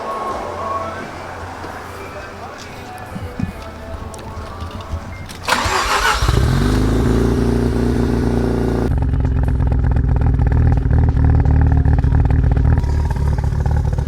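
A twin-turbo Mazda RX-7 rotary engine cranks after a stretch of quieter background, catches loudly and settles into a steady, throbbing idle that stays close and strong to the end.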